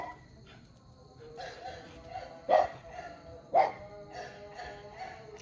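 A boerboel guard dog barks twice, fairly distant and moderately loud, over a low outdoor background by a pool.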